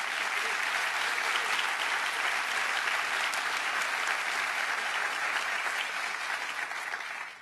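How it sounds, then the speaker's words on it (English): A large audience at a State of the State address applauds steadily, the dense clapping holding level for several seconds before tapering off at the end. "Give Lee Meringoff a round of applause"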